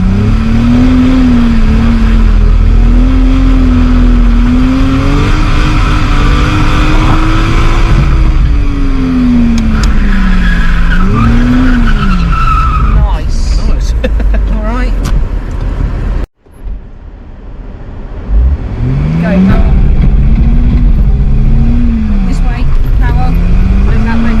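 A car drifting around cones at a drift-training session, its engine loud and close, the revs rising and falling as the throttle comes off and back on, with one brief cut; an instructor talks over the engine almost the whole time.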